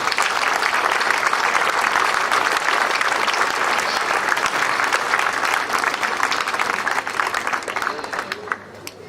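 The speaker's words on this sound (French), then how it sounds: "Je crois qu'on peut les applaudir, l'ensemble du personnel" A crowd gathered for the inauguration of a town square in Crespières applauds the town staff, sustained, dense clapping from many hands that carries on for several seconds before thinning out at the end.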